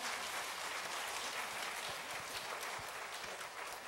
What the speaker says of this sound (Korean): 이럴 땐 박수 한번 쳐야 됩니다.